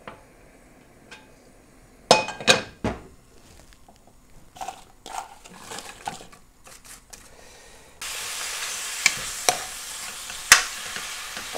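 Pork belly stir-fries in salad oil: sharp clatters and scrapes of a spatula against the pan, then a sustained loud sizzle with occasional pops.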